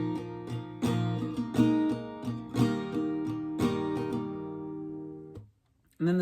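Strummed acoustic guitar plays the second outro line of a song, live version, in rhythmic chord strokes with regular accents, up close and unaccompanied, then a brief pause and a final strike.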